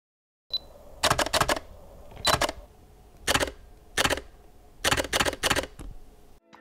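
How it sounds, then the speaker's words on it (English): A Canon R6 Mark II mirrorless camera shutter fires in loud, close bursts, several quick clicks in rapid clusters separated by short pauses, with no talking. "the Mark II has a noticeably louder shutter"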